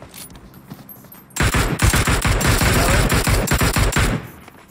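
Rapid automatic gunfire in PUBG Mobile on the Miramar map, a loud, tightly spaced burst of shots that starts abruptly after a quiet lead-in and rattles on for about three seconds before cutting off.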